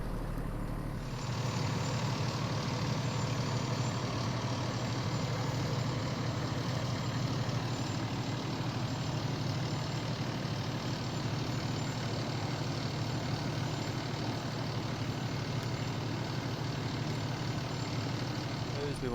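A fire truck's engine runs steadily at a fire prevention demonstration while water is pumped to a hose, producing a constant low rumble with a steady hum that continues unchanged throughout.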